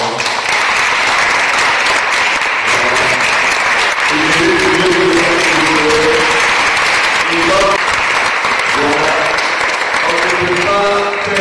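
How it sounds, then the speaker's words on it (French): An audience applauds steadily at an outdoor Saturday event, the clapping broad and continuous throughout, with voices calling and cheering through the crowd noise. "c'est M. Ange que j'aimerais que nous acclamons"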